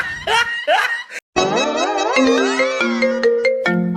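A mobile phone ringtone plays loudly, a bright electronic melody with sliding and stepped tones running for several seconds after a short burst of laughter-like sound.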